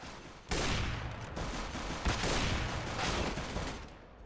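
A burst of rapid gunfire from a first-person shooter video game starts abruptly and keeps up as dense, loud, overlapping shots for about four seconds before easing off.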